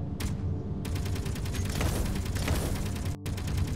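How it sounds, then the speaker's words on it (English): Missiles launching in Space Engineers, heard as loud, rapid mechanical bursts and rattling fire layered over a heavy low rumble, continuous for a few seconds with a brief dropout near the end. "Missiles away!"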